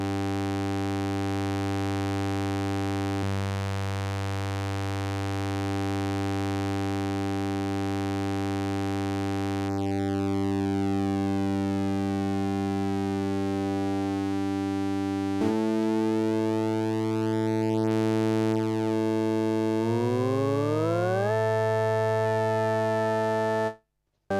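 A sustained, buzzy organ-like tone from a Novation Peak synthesizer's oscillators, rich in harmonics, shifting in timbre as its pitch layers sweep and beat against each other; no voices.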